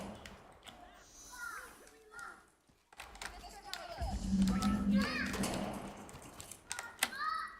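Children yelling in a courtyard in the video game Atomfall, distant and echoing, mixed with clattering game ambience and a steady background wash, with a louder burst near the end.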